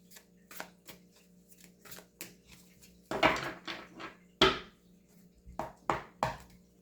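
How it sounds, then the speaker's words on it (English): Tarot cards being shuffled by hand, a string of short papery riffles and slaps in quick bursts with a denser flurry midway, close and clear with no talking. "I probably should babble more about the cards while I'm shuffling."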